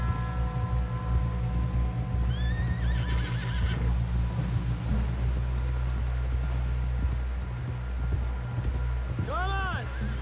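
In the Red Dead Redemption 2 video game, horses whinny twice, once early and once near the end, over steady hoofbeats, a low rumbling background and voices talking.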